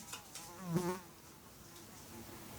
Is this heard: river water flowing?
no